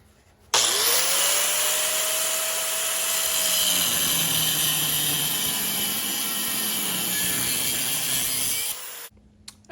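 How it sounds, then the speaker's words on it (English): An angle grinder cutting the stock rocker panel off a Crew Cab Jeep Comanche truck, a loud close high whine that starts abruptly, holds steady for about eight seconds while biting into metal, then stops. "We'll take the angle grinder and cut this all off the full length of the vehicle."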